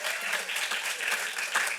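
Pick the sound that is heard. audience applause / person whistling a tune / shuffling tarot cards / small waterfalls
audience applause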